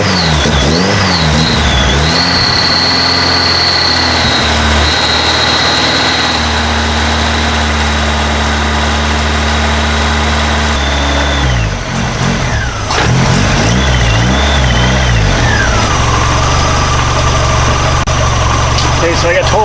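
A Ford Model A hot rod coupe engine with ignition problems idles with a deep, rough rumble, revving up and down several times close by; the throaty sound runs continuously throughout.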